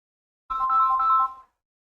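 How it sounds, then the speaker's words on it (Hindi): A phone rings during a classroom lesson, a single steady electronic ringtone burst of about one second, fairly loud and close with no talking over it. "अबे यार, किसका फोन आ गया?"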